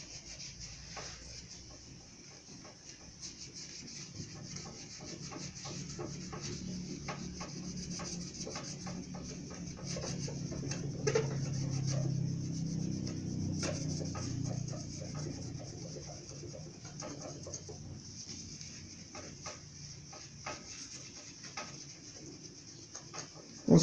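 A ceramic fireplace glass panel being scrubbed in circular motions, a soft continuous rubbing swish with faint scratchy textures that swell and fade, fairly quiet and close, with no talking.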